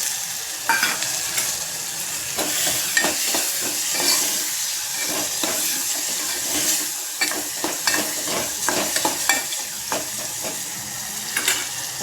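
Tomatoes sizzle steadily in a hot pan while a spoon stirs them with repeated scraping clicks, close up and with no voices.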